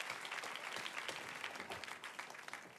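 A crowd claps steadily for dancers, a dense and continuous burst of applause that lasts throughout and sounds somewhat distant.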